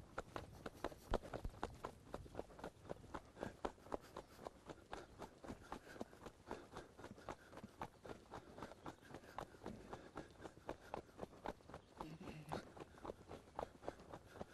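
A horse trotting, its hoofbeats coming as a steady, even run of faint, quick thuds that continue throughout.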